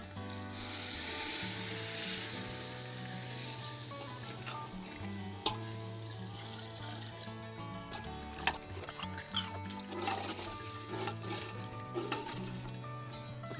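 Water is poured into a hot pot of black country chicken curry cooked village style, setting off a loud sizzle and bubbling, followed by softer simmering and scraping from stirring.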